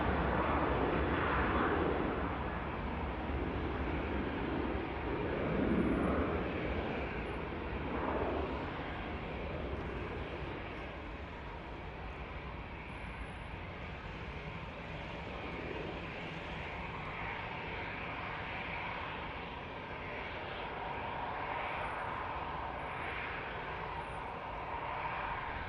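A steady, broad jet roar from an aircraft at Manchester Airport fills the whole stretch, distant and even, swelling slightly at the start and holding a constant rumbling wash with no voices.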